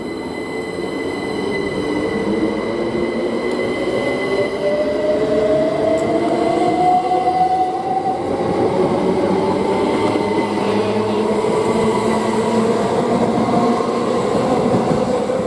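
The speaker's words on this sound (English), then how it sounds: "And now departing is a service to London." An electric passenger train, a Class 387 bound for London, pulls away from Didcot Parkway station on the Great Western Main Line with a loud rumble and a rising motor whine as it gathers speed nearby.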